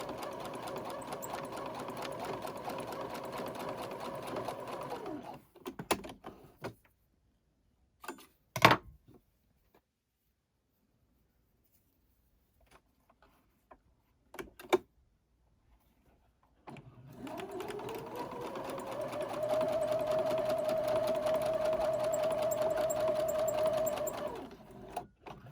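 A sewing machine stitches the seams of a newborn elf outfit in two long runs of steady, close whirring. Between them comes a quiet stretch broken by a few clicks and handling noises.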